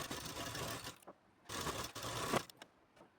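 A sewing machine runs a double line of stitching along a blouse belt in two close, steady bursts of about a second each, separated by a short pause and ending in small clicks.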